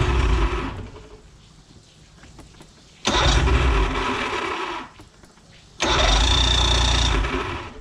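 Outboard engine on a Nitro bass boat, just de-winterized with spark plugs due for changing, cranks and catches in two loud bursts of rough running, each cutting out to quieter lulls between attempts.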